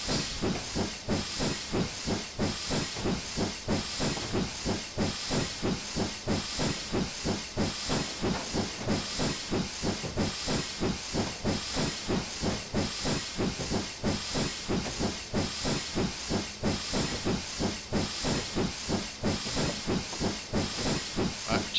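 Steam hiss from a BR 9F steam locomotive in Train Simulator 2016 on the Western Lines of Scotland, a loud continuous rushing hiss with a rapid steady chuffing pulse throughout as the engine climbs a hill, with no talking.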